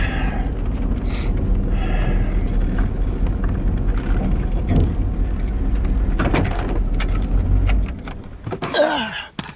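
A big old motor runs with a steady low rumble under rattling and clunking, then cuts off near the end, leaving brief scraping sounds.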